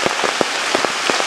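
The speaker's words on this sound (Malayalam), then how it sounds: "നല്ല മഴയാണ് പുറത്ത് പെയ്തുകൊണ്ടിരിക്കുന്നത്." Heavy rain falling outside a kitchen, a dense, steady loud hiss with scattered drips and splats throughout.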